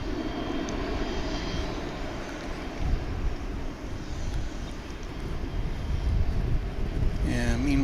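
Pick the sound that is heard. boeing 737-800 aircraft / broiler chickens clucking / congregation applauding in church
boeing 737-800 aircraft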